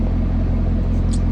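Deep, steady low rumble of a 2018 Chevrolet Camaro ZL1 engine idling close by, continuous and even with no revving, alone without talk.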